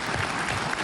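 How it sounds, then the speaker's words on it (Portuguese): Applause from an audience at an engineering club general assembly, honoring an engineer who serves as minister, a brief steady burst of many hands clapping. "Eu acho que merece aplausos também"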